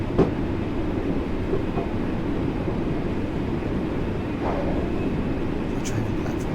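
A Class 484 electric train runs in the Train Sim World 2 video game on the Island Line, a steady low rolling rumble with faint track clicks, under someone talking.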